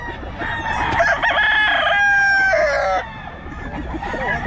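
A Pumpkin Sweater gamefowl rooster at a Bocaue market crows once, loud and close, in a long drawn-out call over a busy outdoor background with some clucking around it.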